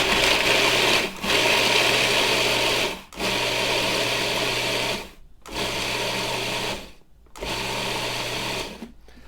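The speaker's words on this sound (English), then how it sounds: "into the food processor, and I'm going to pulse these until I get those walnuts down to little pieces" A food processor pulses walnuts into small pieces: five loud whirring bursts of chopping, each a couple of seconds long, separated by brief silent gaps, close up and without talk.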